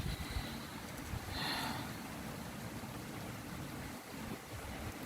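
Strong wind blows through young trees, a continuous gusty roar with a brief louder hiss partway through, heard alone without talking.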